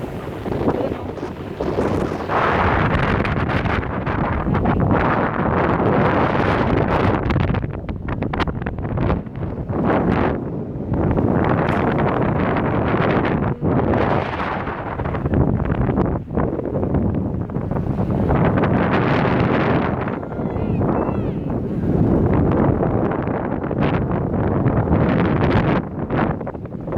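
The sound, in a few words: wind blowing at Playa Las Teresitas beach, Tenerife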